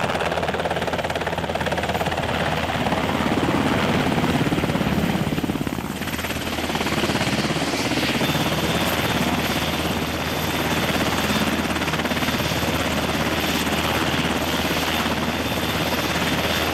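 A Coast Guard helicopter airlifts supplies to Monomoy Lighthouse, its loud, close rotor and engine roar holding steady and unbroken the whole time, with no voices.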